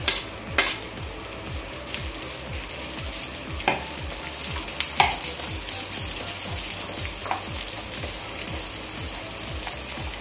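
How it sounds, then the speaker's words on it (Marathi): Cashews and almonds fry in ghee with a steady, dense sizzle, while regular scraping stirs and a few sharper clinks break through the crackle; no one speaks. "हे खरपूस असं आपण फ्राय करून घेऊया तुपामध्ये."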